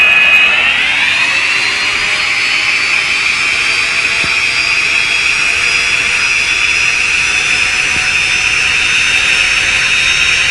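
A steady, loud jet whine from Boeing 747 engines in a flight simulator game, rising in pitch at the start as the throttle comes up, then holding a sustained high roar with no talk.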